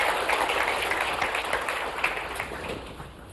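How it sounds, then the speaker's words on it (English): Audience applause for a guest at a 2022 defense industry forecast event, a steady wash of many hands clapping throughout, fairly even and tapering slightly at the end, with no voices over it. "the applause should be to this man right here."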